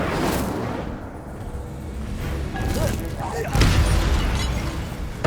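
An Incendio fire spell cast in Hogwarts Legacy, a muffled rushing burst that swells near the end over a continuous rumbling game background, with a person talking over it.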